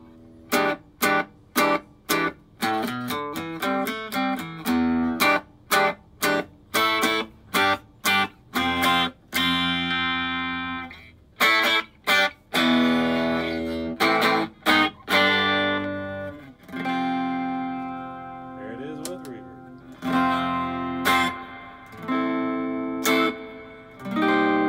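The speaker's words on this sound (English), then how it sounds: "Here it is with no reverb." A vintage 1960s Gibson Falcon GA-19RVT tube guitar amp is played dry without reverb, with sharp clean strummed and picked chords, first in rapid staccato bursts, then sustained ringing notes and short melodic runs.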